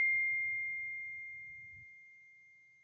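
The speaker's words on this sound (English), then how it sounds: "That was my phone." A phone notification beeps once, a single clear tone that rings and slowly fades, over a faint low murmur in a quiet room.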